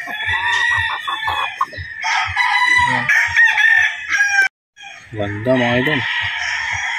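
A rooster crows loudly and close by, with clucking fowl around it in a farm pen, while someone speaks briefly over the calls.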